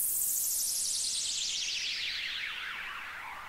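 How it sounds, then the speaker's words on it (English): A synthesized downlifter effect from a sample pack for a future house drop sweeps steadily downward in pitch over a few seconds, its bright, warbling tone fading slightly as it falls. "It's literally a downlifter, a transition, and another downlifter."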